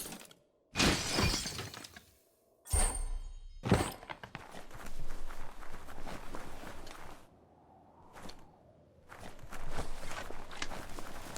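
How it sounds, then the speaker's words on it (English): A wooden box is smashed in the video game Biomutant: a loud crash of breaking and shattering, then clattering debris, a couple more hard impacts and scattered footsteps, all close. "You shouldn't worry about smashing up the box."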